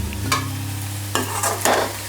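Crab, prawn, chopped garlic, chilli powder, salt, cumin and a little fennel powder stirred together in a bowl for an omelette, a few scraping strokes over a low steady hum with no talking.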